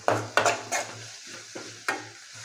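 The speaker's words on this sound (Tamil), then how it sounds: "நல்லா வதக்குங்க" Cabbage sautéing in oil with a little salt while it is stirred in the pan, a low sizzle under several sharp scraping stirs spaced irregularly, with no voices.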